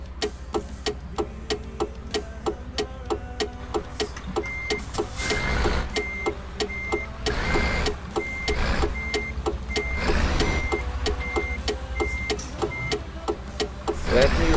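A truck reversing in Euro Truck Simulator 2, with a steady low engine hum under a regular ticking indicator, a repeating reverse beep joining partway through, and occasional swells of engine noise.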